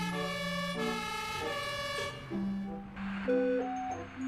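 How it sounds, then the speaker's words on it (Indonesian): Toy fire truck siren playing an electronic melody of steady, bright tones that shift pitch in steps, loud and close with no talk over it. "Wow, ada pemadam kebakaran."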